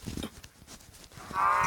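A cow moos in a video game, a short sustained bovine call rising near the end after quieter game noises.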